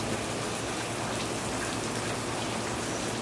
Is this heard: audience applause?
no